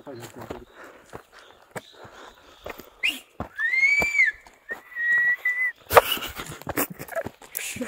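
A person whistles outdoors while herding goats in the Himalayan mountains, giving a few short rising notes and held tones. Footsteps, a whimpering dog and people talking are heard around it.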